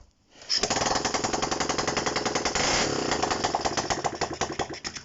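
A Honda CB125 RS motorcycle engine with the choke on, mid-restoration, catches after a short silence and runs loudly in a rapid, uneven chatter for several seconds, close up and alone.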